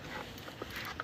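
Snoopy the dog makes a few faint, brief sounds while clambering up a staircase for the first time and tripping, with short soft bursts over a quiet indoor room.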